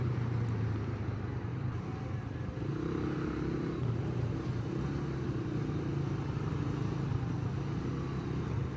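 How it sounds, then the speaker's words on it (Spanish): A motorcycle rider works the clutch and throttle while filtering between cars, the engine droning steadily with slight swells in pitch, under a continuous roar of traffic and wind, close and constant. "este juego que estoy haciendo con el embrague y el acelerador es lo que les digo que nos ayuda mucho"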